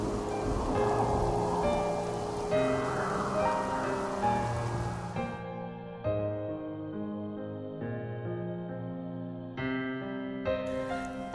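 Rain falling steadily in a Telugu village story about a crop ruined by rain, a soft continuous patter under background music that cuts off midway, leaving the music alone.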